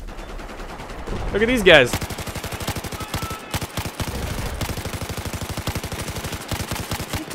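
Rapid automatic gunfire in Battlefield 4 multiplayer, a long run of evenly spaced sharp shots rattling on for several seconds with a brief pause. Someone speaks over the opening shots.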